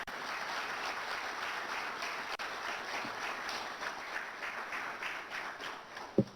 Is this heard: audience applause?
yes